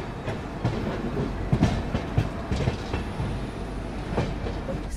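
A Sealdah–New Delhi Rajdhani Express runs at about 128–129 km/h, heard from inside an AC 3-tier coach as a steady rumble with a regular clickety-clack of wheels over rail joints and no talking.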